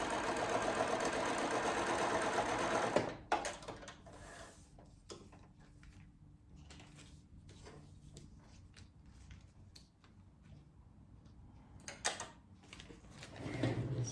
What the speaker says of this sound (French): je couds avec ma machine à coudre sur la ligne de couture